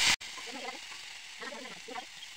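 Small fish fry in oil in a wok with a steady, moderate sizzle, while a voice talks over it in short bursts.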